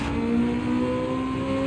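Hypercar engines from Gran Turismo 7 drone steadily throughout with a sustained, even tone, loud and continuous with no talk over them.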